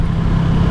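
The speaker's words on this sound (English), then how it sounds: "Fourth gear at 40 miles an hour, full throttle." Ducati Streetfighter V2 motorcycle at full throttle in fourth gear from about 40 mph, a loud, steady low engine drone with road and wind roar on an open road.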